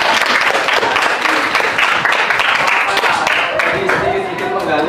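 A classroom full of people applauds steadily and loudly throughout, a thick continuous patter of many hands, with voices and crowd noise mixed in.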